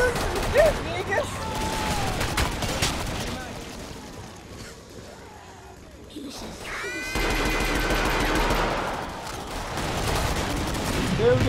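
Rapid bursts of gunfire from the zombie shooter game Killing Floor, loud and dense, with chaotic game noise and players talking over it.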